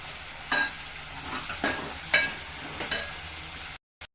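Cluster beans hit hot oil in a pan for a spiced vegetable dish, giving a steady close sizzle broken by a few sharp stirring scrapes, then cutting off abruptly.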